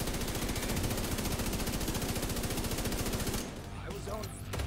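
Turret gunfire in Division 2, a loud, rapid, unbroken automatic stream of shots lasting several seconds, close by, then cutting off into quieter background noise.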